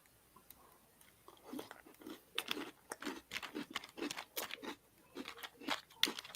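Crunchy strawberry-flavored food eaten with a small spoon, heard as close, repeated crisp crunching bites in an irregular rhythm, fairly quiet with no talking.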